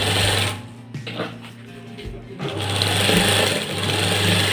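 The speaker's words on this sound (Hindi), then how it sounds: "उसके ऊपर मैं इसको कॉलर को रख दूँगा इस तरीके से और एक सिलाई लगाऊँगा" A sewing machine stitches a shirt collar in bursts, whirring loudly, pausing briefly in the middle with a few clicks, then running again steadily to the end.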